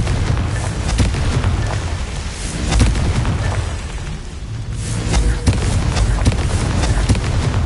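Blasting spell explosions from a wizarding video game, with loud booming bursts recurring over a constant roar of rumble and debris, the strongest hits coming around the start and midway through.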